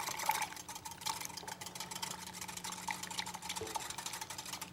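Scone dough with buttermilk mixing in a Cuisinart food processor, a low steady motor whir with scraping, slightly rattling texture running continuously, no voices.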